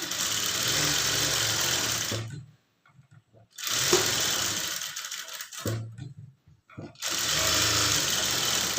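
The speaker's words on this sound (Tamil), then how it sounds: "அதுக்கப்புறமா ஹெஜ்ஜிலே வந்து தையல் போட்டுக்குங்க இழுக்காமல் தையல் போடணும்" Sewing machine stitching along the edge of blouse fabric, running in three sustained bursts with short pauses between them, close and fairly loud.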